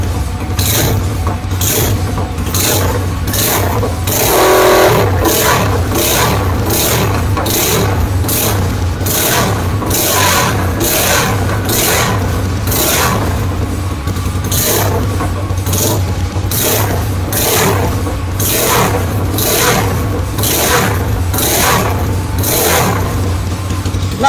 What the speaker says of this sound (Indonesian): begini suaranya kira-kiranya. Knalpotnya pipa 3 mili, diameternya 43.